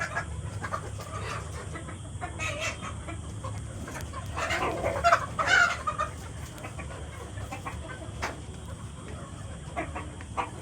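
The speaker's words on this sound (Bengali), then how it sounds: "কত মুরগি, দেশি মুরগি দেখো, কত দেশি মুরগি" Native desi chickens and roosters clucking around a farm, scattered nearby clucks with a louder flurry in the middle over a low background hum, no speech.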